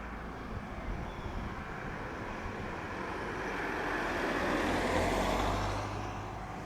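A JetBlue airliner on its takeoff roll from runway 07 at Montego Bay, Jamaica, a broad distant engine roar that swells gradually in the middle and then eases, with no talk.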